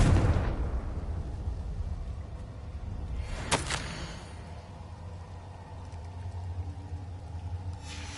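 A Confringo spell explosion in Hogwarts Legacy gives one brief crackling burst over a low, steady rumble of background ambience.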